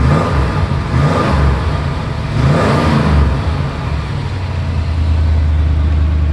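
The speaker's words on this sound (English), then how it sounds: "let me let you get a listen to this engine" A 1973 Ford F250 truck engine, not bored out, revs up and down in two swells, a deep steady rumble with rising and falling pitch, close and loud throughout.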